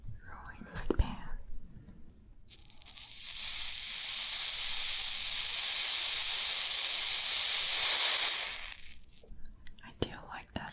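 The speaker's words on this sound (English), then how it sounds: "I do like that sizzle though." A wet sponge pressed into a hot pan gives a steady, loud sizzling hiss lasting several seconds, swelling then fading away, with soft handling noises before and after.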